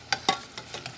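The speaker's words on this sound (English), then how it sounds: "Fry it again." Potato balls frying in hot oil, heard as a few brief crackling pops and stirring clinks close by over a faint sizzle, with no talk.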